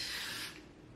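Got To Be spray glue hisses from an aerosol can onto hair during a wig install, a short close burst of spray that cuts off after half a second, leaving a faint rustle.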